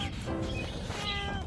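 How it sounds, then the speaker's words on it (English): A hungry cat meows insistently for food in a home kitchen, a loud, drawn-out plaintive meow followed by another close by, no talk over it. "He literally followed me, meowing through this entire video because his bowl is empty"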